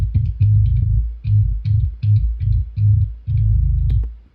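Sub low-end layer of a djent metal bass tone, heard alone as a deep, loud rumble in rhythmic chugging bursts with short gaps between palm-muted notes.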